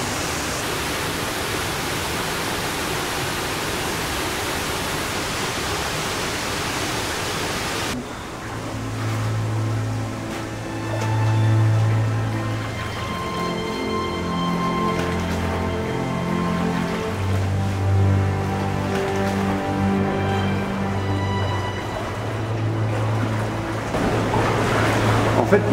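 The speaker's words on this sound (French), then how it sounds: "En fait, l'eau elle vient de la cascade." A cave waterfall flows back into an underground gallery, a loud steady roaring rush for the first stretch that then drops to a softer watery wash under tonal echoing sounds.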